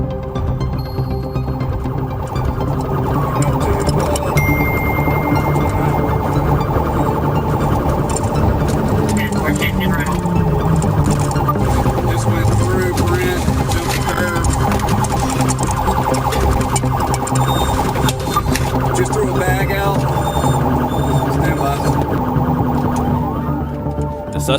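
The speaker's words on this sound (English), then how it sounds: "I immediately activated my emergency lights and sirens and initiated a pursuit." Police car emergency siren wailing continuously during a high-speed pursuit, loud and sustained throughout amid dense traffic and engine noise, with voices mixed in.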